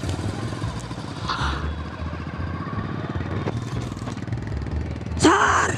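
A motorcycle engine rumbles steadily at moderate distance, with a brief louder rev near the end; no talking.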